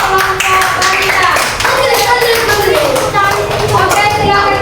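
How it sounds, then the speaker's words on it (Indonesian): Schoolchildren in a primary classroom applauding a group of girls with loud, dense, continuous clapping, mixed with children's voices calling out throughout. "Beri tepuk tangan kepada kelompok wanita."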